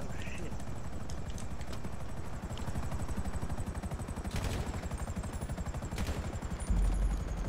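A helicopter in Grand Theft Auto Online drones with a steady rapid rotor chop, joined by sharp bursts of gunfire and a heavy thump near the end.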